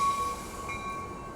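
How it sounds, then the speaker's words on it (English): An Amtrak Capitol Corridor train bound for Sacramento departs at Oakland, a steady rolling rumble with a sustained high tonal whine, moderately loud and without talk. "748 Capital Corridor Train now departed."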